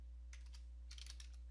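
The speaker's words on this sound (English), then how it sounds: "then hit enter on your keyboard" Fingers tap a computer keyboard in two quick bursts of soft, close clicks, heard over a steady low electrical hum.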